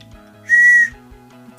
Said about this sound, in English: Some of these whistles are pretty good, some are not.